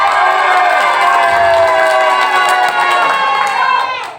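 A large training-session audience in Bogor erupts in loud, continuous cheering and shouting with clapping mixed in, a dense crowd roar that holds steady throughout and eases slightly near the end.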